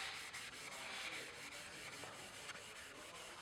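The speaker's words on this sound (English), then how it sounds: "with our sandpaper, we're going to go ahead and sand in one direction" Steady rhythmic scratching of wet sandpaper rubbed in one direction on a plastic car headlight, close and continuous with no talking.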